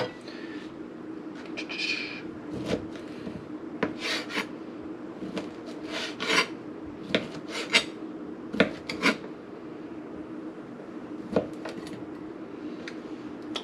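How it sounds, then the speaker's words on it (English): A knife slices thick pieces of ham on a board into cube-sized chunks, giving a string of short, crisp cutting strokes at an uneven pace, close by and moderately loud, with no talking. "into thirds. You get a nice sort of off cube sized pieces of ham"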